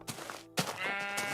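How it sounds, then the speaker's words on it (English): Sheep bleating in the Minecraft video game, two short bleats, the second longer with a bright, wavering tone, fairly close and standing alone without talk. "There's a sheep outside of our fence, Noah."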